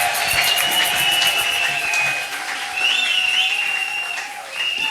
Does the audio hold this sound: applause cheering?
yes